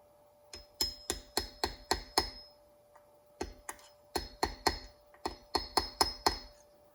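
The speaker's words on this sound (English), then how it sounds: "and then a few light taps should be good" Sharp, light metallic taps seat a part into the carburetor body of a CB900F motorcycle, falling in two quick runs of about seven taps each, close and clear, with a short pause between the runs.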